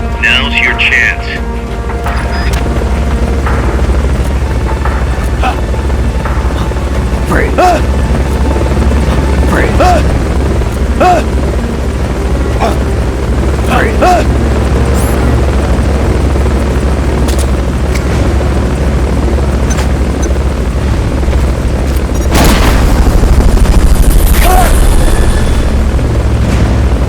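Helicopter rotor drone from the game Metal Gear Solid Peace Walker, a steady loud low chop running throughout and swelling near the end, with brief speech and small game effects layered over it.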